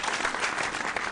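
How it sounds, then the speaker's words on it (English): Applause from a school quiz competition audience, a dense, steady patter of many hands clapping together at an even level through the short stretch, with no talk over it. "Please give them a round of applause."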